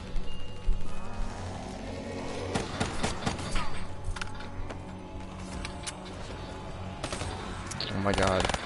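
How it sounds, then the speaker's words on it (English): Gatling gun firing in a video game, rapid rattling bursts of gunfire mixed with crashes and game effects, fairly loud and continuous with a busy background. "give me that Gatling gun"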